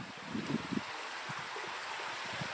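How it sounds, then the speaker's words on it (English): Water flowing in from the bay through pipes into a San Francisco Bay tidal wetland. It makes a faint, steady outdoor rush with a few soft low thumps near the start and no talking. "we can hear the water flowing in"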